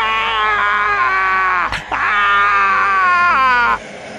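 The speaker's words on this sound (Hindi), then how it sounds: "चीखने की आवाजें आ रही थी।" Shrill, drawn-out screaming wails from a rolling eyeball in a dark tantric horror tale, loud and close, rising in two long sustained bursts with a brief gap between before cutting off abruptly.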